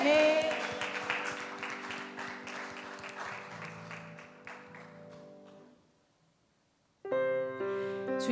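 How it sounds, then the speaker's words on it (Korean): A church congregation at a Sunday worship service claps in praise, with dense applause over sustained music that gradually fades out, followed by a louder burst of organ or keyboard chords. "선한 목자 되신 주님께 박수로 영광 올려드립시다"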